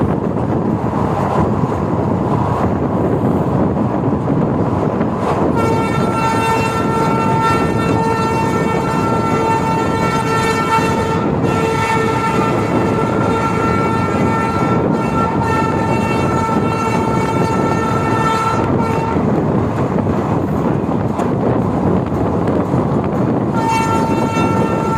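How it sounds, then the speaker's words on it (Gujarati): Okha SF Express hauling 24 coaches between Rajkot and Jamnagar, its loud continuous rumble and wind noise joined by a long sustained horn blast lasting about fifteen seconds, with a short second horn near the end. "અને આ ટ્રેન અત્યારે 24 કોચ લઈને જઈ રહી છે"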